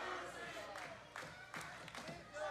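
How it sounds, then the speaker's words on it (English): Wrestling crowd at Davis Arena cheering on a wrestler, a dense roar of voices with bursts of clapping and whoops rising and falling throughout, loud and close, with a commentator's voice riding over the noise. "You hear the Juice Troop going wild here in Davis Arena"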